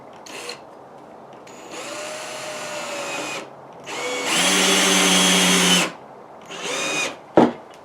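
A power drill drives a 2.5 inch wood screw into oak, whining in several bursts that rise in pitch and strain as the screw bites deeper, ending with a sharp click.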